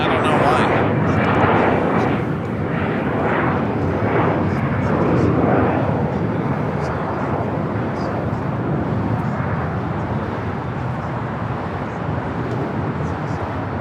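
A Cathay Pacific cargo plane takes off on runway 25 right at LAX, its jet engines a broad, loud roar that swells early and then holds steady, with people talking over it.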